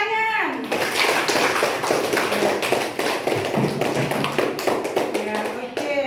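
A class of schoolchildren claps hands together in an Indonesian language lesson, a dense, steady patter of many small hands filling several seconds, with brief voices at the start and end.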